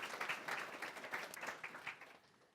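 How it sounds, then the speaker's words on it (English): Audience applause for panel guests at a workshop, a steady wash of many hands clapping that holds for a couple of seconds and then tapers off. "So we'll give them a bit of a clap before we start."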